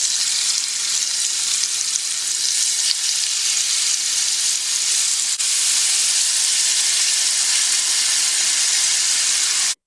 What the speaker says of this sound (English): You want to hear that nice sizzle and you want to sear the chicken on both sides.